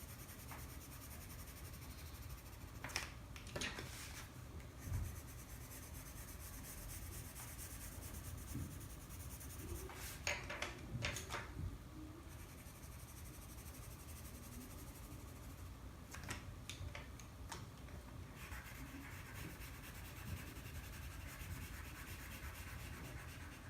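Soft, steady rubbing strokes of coloring in a drawing of shoes, quiet scratchy scribbling of a drawing tool on paper, with a few brief sharper scrapes.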